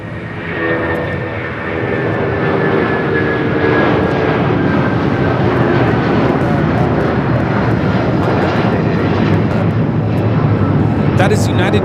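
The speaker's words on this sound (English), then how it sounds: "That is United Airlines 1855 taking off to Newark on the 757-200." A United Airlines Boeing 757-200 takes off at LAX, the engine roar swelling within the first couple of seconds and then holding loud and constant, with a voice talking over it.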